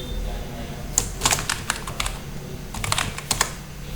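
A password is typed on a computer keyboard, with two quick clusters of crisp key clicks separated by a short pause. A faint background hum runs underneath.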